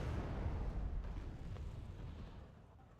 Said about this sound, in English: Nice explosion at the end.